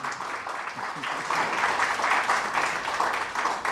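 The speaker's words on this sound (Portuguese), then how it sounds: "Forte aplauso para o representante de UNOCA" A crowd applauds steadily throughout, dense clapping at moderate volume without pause.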